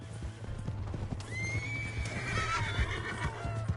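In Red Dead Redemption 2, a horse's hooves clip-clop in a steady galloping rhythm while a loud, rising whinny cuts in and trails off over the hoofbeats.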